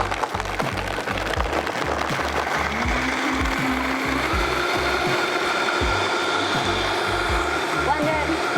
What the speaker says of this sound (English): I'm using a Vitamix. You could use any kind of blender that you want.